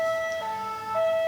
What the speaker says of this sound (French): excusez-moi de la sirène